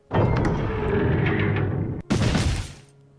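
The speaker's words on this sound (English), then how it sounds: "I could hear gunshots coming from the other side" Gunshots from the Higurashi video game sound as a sustained loud roaring barrage, then cut off sharply before a second burst that decays away, close and heavy.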